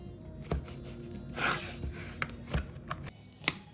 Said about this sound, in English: I'm just gonna chop up these sun-dried tomatoes now,